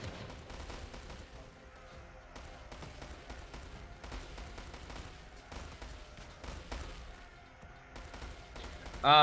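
Grenade launcher fire during a charge in a massive free-for-all video game battle: a steady barrage of overlapping shots and thuds runs throughout, ending in a sharp, louder blast.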